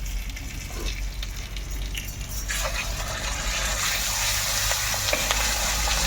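Onion-cashew paste, chili and a little tomato fry in a wok, a close steady sizzle that swells louder partway through, with light stirring scrapes and clicks over it.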